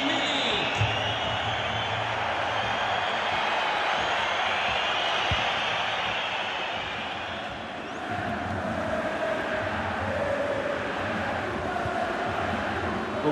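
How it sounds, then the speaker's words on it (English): Stadium crowd at a Serie A football match between Udinese and Juventus: a dense, continuous roar of thousands of fans, steady and moderately distant, swelling slightly near the end. "Just listen to this crowd."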